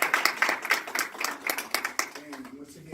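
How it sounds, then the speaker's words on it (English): Rhythmic hand clapping from a conference audience, with brisk, evenly spaced claps thinning toward the end as a voice begins to speak. "Let's give her a hand clap."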